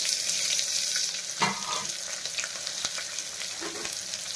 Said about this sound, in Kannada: ಈರುಳ್ಳಿ ಫ್ರೈ ಆಗಿದೆ